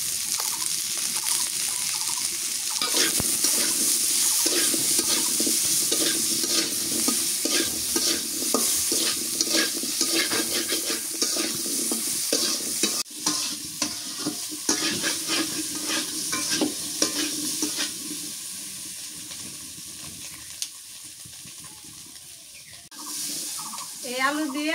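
Desi chicken with potatoes, salt, chili and turmeric powder sizzles steadily in a pan while a spoon stirs and scrapes through it. The frying is close and continuous, with brief water-like gushes and occasional clatter.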